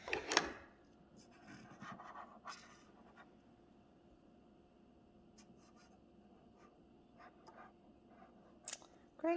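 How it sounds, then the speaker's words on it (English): A child writes on a small dry erase board with a marker, giving soft intermittent squeaks and scratchy strokes up close, with a few quiet handling knocks at the start and end. "Can you write mom on your dry erase board?"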